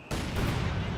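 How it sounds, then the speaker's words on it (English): Mine detonations in a Company of Heroes 2 battle, with a sudden sharp blast followed by sustained loud rumble and crackle that carries on to the end. "Some of them detonated there"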